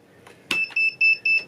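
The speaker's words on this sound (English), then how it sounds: "Hands on buzzers, here we go." Game show buzzer in an Elizabethan-themed movie trivia contest, a loud electronic tone sounding in several short repeated bursts, each starting abruptly, with nobody talking.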